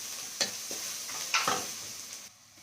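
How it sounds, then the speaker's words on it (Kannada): Turmeric powder is mixed into fried onions in a pan, producing a soft sizzle broken by a few sharp spoon scrapes and knocks before the sound quiets abruptly. "ಈಗ ನಾನು ಅರಿಶಿನ ಪುಡಿನ ಆ್ಯಡ್ ಮಾಡ್ಕೊತೀನಿ. ಸೊ ಅದನ್ನು ನೀಟಾಗಿ ಮಿಕ್ಸ್ ಮಾಡಿಕೊಂಡು"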